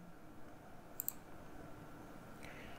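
A quiet double mouse click on the cylinder icon in COMSOL simulation software, two sharp ticks close together against faint room hiss.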